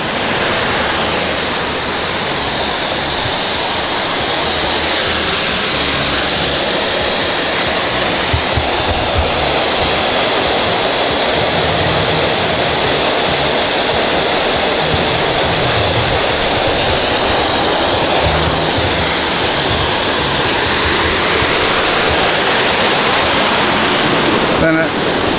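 Copper Creek Falls, a resort waterfall on lodge grounds, pours in a loud, continuous rushing roar that stays steady and close for the whole stretch, with only faint traces of voices underneath.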